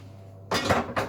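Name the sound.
metal spoon clinking in mixing bowl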